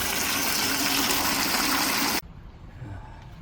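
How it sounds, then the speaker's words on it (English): Water from a tap gushes loudly into a bucket in a steady, full rush, then cuts off abruptly, leaving quieter trickling and handling sounds. "Fill up the bucket with about 2 gallons of water."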